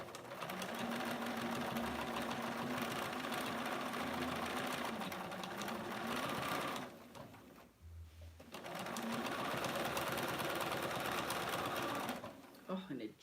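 Sewing machine stitching oven mitts with a longer stitch setting, a steady rapid mechanical whirring that runs in two long stretches with a brief pause between, with a person talking over it.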